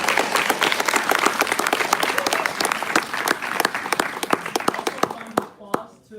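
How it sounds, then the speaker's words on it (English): A room of audience members at a TEDx university event claps steadily in a dense, moderately loud round of applause that thins to a few last claps. "please give a round of applause."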